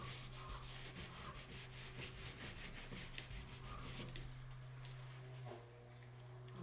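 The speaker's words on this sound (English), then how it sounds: "So I'm going to lift it a little, rub it back a little." Transparent ink being rubbed and lifted from paper with a steady, close scrubbing texture that runs throughout, over a constant low hum, with no talking.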